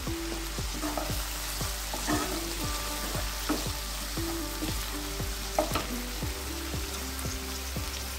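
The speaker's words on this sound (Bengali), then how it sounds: "টমেটোটা 30 সেকেন্ড ভেজে নিয়ে" Tomato frying in a pan for a rice dish, a steady close sizzle broken by repeated scraping stirs with a spatula throughout, with no talking.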